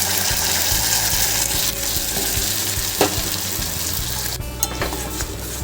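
Ground ridge gourd paste sizzles in a pan with browned onions, a constant loud frying hiss under occasional scrapes of stirring, close up and with no talk.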